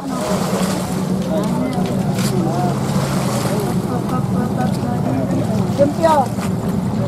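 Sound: fishing boats in a harbor, Talibon, Philippines

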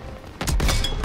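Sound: gunfire in video game Call of Duty WW2

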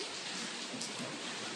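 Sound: rain

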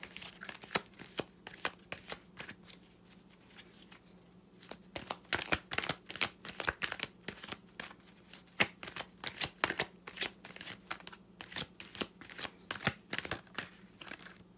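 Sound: shuffling tarot cards

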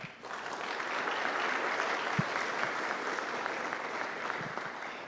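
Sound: congregation applause in church

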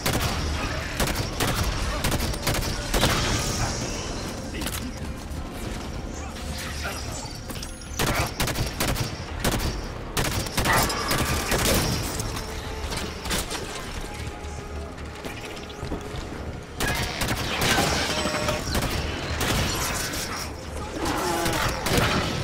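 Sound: gunfire in the video game Halo 5: Guardians

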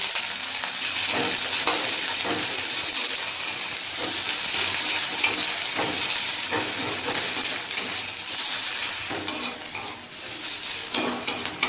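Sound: chopped onion frying in oil with bay leaf and cumin

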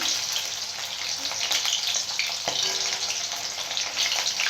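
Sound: frying chili chicken in oil

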